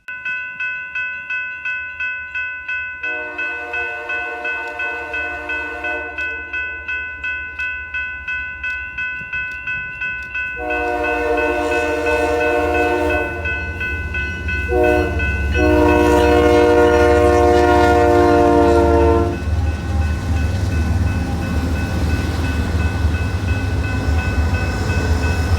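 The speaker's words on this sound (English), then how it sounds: "Not far behind, BNSF 7226 leads another intermodal westbound." A BNSF intermodal freight train heads westbound on a frigid January morning in Illinois, sounding several long loud horn blasts as rumbling cars roll past with rhythmic wheel clatter.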